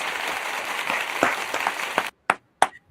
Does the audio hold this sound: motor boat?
no